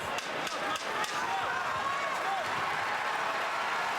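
A UFC arena crowd in Boston roars in a steady, distant wash during a Conor McGregor fight, with scattered claps and shouts, and a commentator's voice rising above the noise.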